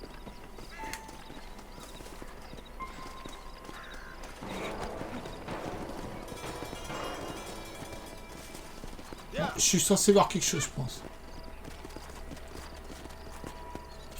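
Horse hooves clip-clop in the Red Dead Redemption video game on PS5, rhythmic hoofbeats at moderate level with a louder burst of game sound midway, while someone talks over it.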